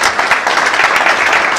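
An audience claps at an entrepreneurship and social media meetup, producing dense, loud applause that stays steady throughout the short stretch.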